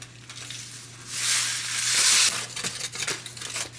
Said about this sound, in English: I'm mixing this up and then I'm going to move it to a bowl